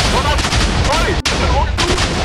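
Minecraft TNT blocks explode in a dense, continuous barrage of loud booms and crackling blasts that run together without pause, with one brief dropout partway through.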